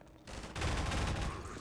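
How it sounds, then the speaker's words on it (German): A short, dense burst of gunfire in the Half-Life 2 video game, loud and close, following a quieter lead-in and sustained as rapid overlapping shots for just over a second. "Also ich konnte jetzt einmal feuern."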